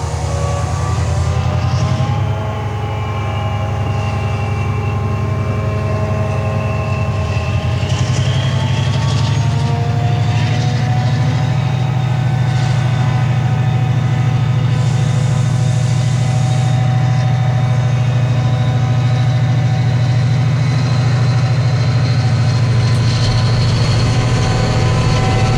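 A train runs on the line from Scarborough to York, a loud, steady rumbling drone with low engine hum and shifting tonal whines from the wheels and motors, continuous and close throughout.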